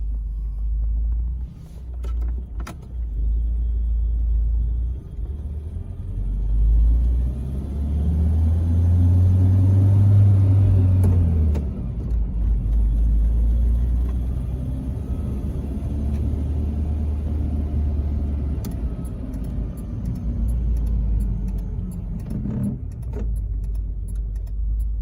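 Citroen DS 21 Pallas on the road, a steady loud low engine rumble with road noise throughout, the pitch rising and falling as the car accelerates and shifts, heard from inside the cabin.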